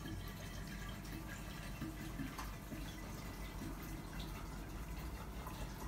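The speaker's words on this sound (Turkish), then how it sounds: "1 litreyi alkolün içine boşaltıyoruz arkadaşlar." One litre of water pours from a bottle into alcohol for homemade raki, a quiet, steady gurgling stream of liquid filling a bottle.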